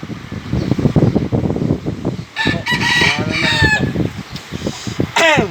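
A rooster at a cockfight crows loudly and nearby, its drawn-out call rising over a steady crowd murmur and the hum of a fan.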